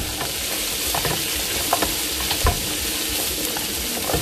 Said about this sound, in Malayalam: ഈ കട്ട് ചെയ്ത് വെച്ചേക്കുന്ന ഒനിയനെ ഇതിനകത്ത് ഇട്ടല്ലേ കൊടുക്കാം കേട്ടോ ഇതും നമുക്കൊരു ഗോൾഡൻ ബ്രൗൺ ആവണം